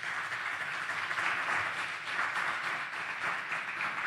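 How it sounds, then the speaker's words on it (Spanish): Steady crowd applause at a men's church seminar, a dense continuous patter of many hands clapping at moderate volume throughout, with no voices over it. "Denle un aplauso a Dios por eso."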